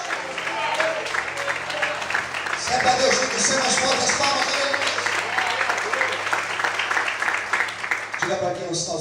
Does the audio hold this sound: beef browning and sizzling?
no